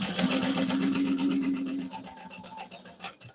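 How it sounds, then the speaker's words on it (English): A sewing machine top stitches a hobo bag along both edges, a close, loud, rapid mechanical chatter of needle strokes that slows to separate thumps at the end. "now I'm going to top stitch all of these on both sides or along both edges using a 3/8 inch seam allowance"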